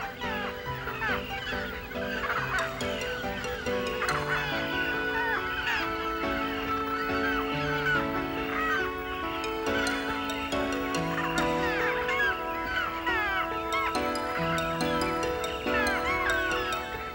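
Roseate terns call across a communal nesting ground in Taiwan, a dense, continuous chorus of harsh, overlapping cries from many birds, steady and fairly loud throughout.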